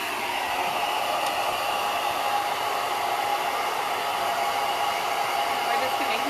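A heat tool blows a steady, loud hiss of air while warming decoupage on a wooden chest. The whooshing noise is close and continuous throughout.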